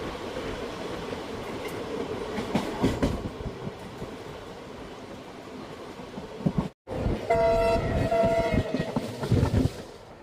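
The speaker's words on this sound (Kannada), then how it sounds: "ನಮ್ಮ ಟ್ರೈನ್ ಈಗ Arsikere junction platform number 2ಕ್ಕೆ entry ಆಗ್ತಿದೆ" A passenger train entering platform 2 at Arsikere junction station, heard from on board: rumbling wheels and clickety-clack, a horn, and a brief dropout followed by louder clattering rail noise and tonal squeals, no voices.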